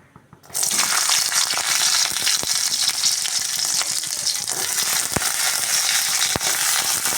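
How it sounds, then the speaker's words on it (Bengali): Garlic cloves and chopped green chillies hit hot oil with a sudden loud sizzle that continues steadily as they fry close by, with occasional stirring clinks. "ওই তেলের মধ্যে আমি দিয়ে দেবো ওই যে রসুন কোয়াগুলো আছে আর চারটে কাঁচা লঙ্কা কেটে রেখেছিলাম ওইগুলোকে আমি ভেজে নেব"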